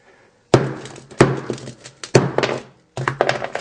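Hard, hollow knocks on a Samsung Galaxy S7 phone, five sharp impacts spaced roughly half a second to a second apart, each with a brief rattling decay, loud and close with no talk.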